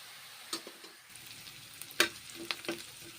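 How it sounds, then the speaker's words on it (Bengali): Chopped onions frying in a pan for a mushroom and cauliflower curry: a quiet, steady sizzle broken by a few sharp clicks and taps from stirring. "পেঁয়াজগুলো ভেজে নিচ্ছি দুটো পেঁয়াজ কুচিয়ে নিলাম ভেজে নেব লাল লাল করে"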